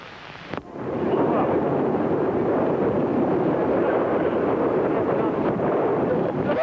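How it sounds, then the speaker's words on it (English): A Vanguard rocket explodes on the launch pad in archival footage, a sudden onset that swells into a loud, sustained, roaring rumble filling the rest of the clip. "there's been an explosion on the launching pad, and the Vanguard has been disintegrated before it left the ground"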